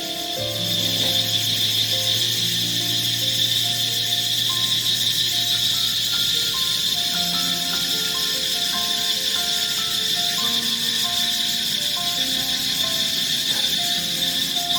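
A loud, unbroken high-pitched droning of cicadas fills a forest garden in the evening, with faint tonal bird calls drifting in underneath.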